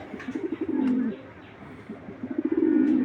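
Racing pigeons coo close by in two soft, throaty rolling bursts, with faint rustling between them.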